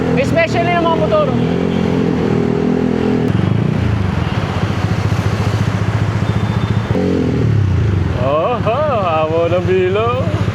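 Motorcycles and cars rumble and drone through busy traffic, engines revving close by with a steady loud roar, while a voice talks over the noise.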